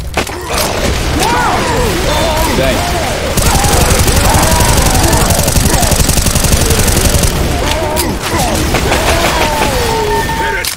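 Sustained automatic gunfire from Left 4 Dead 2 players unloading on a tank, loud and relentless for the whole stretch, with a denser burst in the middle and shouting voices mixed in.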